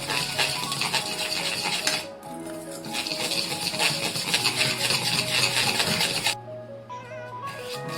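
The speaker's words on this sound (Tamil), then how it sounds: "நல்லா ஸ்டிட் பண்ணிக்கோங்க. நல்லா 5 minutes ஸ்டிட் பண்ணாதான் நல்லா பஃபியா வரும் கேக்கு." Chocolate cake batter being stirred in a bowl, a steady continuous scraping and clinking of a utensil against the bowl that runs throughout at close range.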